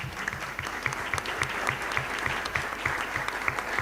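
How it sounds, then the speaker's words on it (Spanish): A church congregation claps steadily and fairly loudly, with a fast even patter of hands throughout. "un aplauso pues para el hermano"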